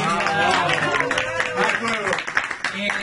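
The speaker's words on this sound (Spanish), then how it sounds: "Un aplauso para Miguel" A live audience at a Spanish talk show recording applauds, a dense patter of clapping blended with cheering and people talking loudly over it.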